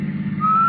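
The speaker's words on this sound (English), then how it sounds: "Al, whistling while he worked." A man named Al whistles a short, steady tone that rises and then holds one pitch, close and clear over a faint low background rumble.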